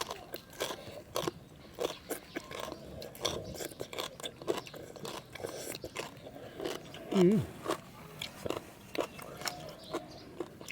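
Crunchy bites and chewing of a spicy pounded green papaya salad with fresh shrimp, a run of crisp, close crunches under soft, quiet talk.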